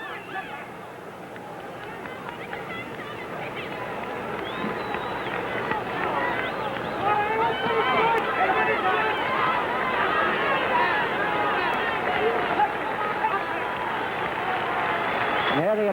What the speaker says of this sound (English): You hear the applause in the background.